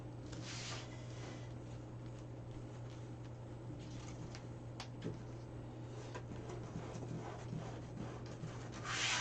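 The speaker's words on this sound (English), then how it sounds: "So just pull it out and ruffle it." Deco mesh ribbon being pulled out and ruffled by hand for a Mother's Day wreath, giving soft continuous rubbing and crinkling with scattered light scratches over a steady low hum, fairly quiet and close.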